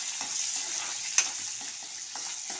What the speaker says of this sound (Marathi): इथे मध्यम करून कांदा थोडाफार परतून घ्यायचा आहे